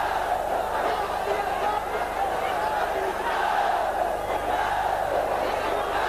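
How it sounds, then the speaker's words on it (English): Thai boxing crowd at a WBA super flyweight title bout roaring and chanting steadily, a dense continuous wall of voices throughout. "Crowd chanting every winning punch, Jim."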